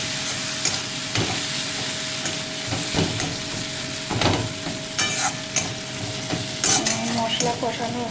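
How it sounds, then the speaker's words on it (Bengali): Onion and spice masala frying in released oil for an egg tarka, a steady crackling sizzle with intermittent spoon scrapes and metallic taps against the pan, close up and without speech. "মশলা কষানো হয়ে গেছে, মশলার থেকে তেল ছেড়ে দিয়েছে।"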